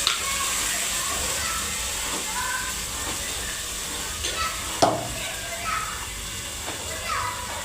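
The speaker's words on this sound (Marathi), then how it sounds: "चांगलं परतून घ्यायचा काळा मसाला आणि आपला भाजलेला मसाला मिक्स करून घ्यायचा. तेल सुटेपर्यंत भाजायचा, तळायचा तेलात." Black masala and roasted masala paste frying in hot oil with curry leaves and garlic, stirred. A steady, close hiss of sizzling runs throughout, with occasional scrapes and one sharper knock.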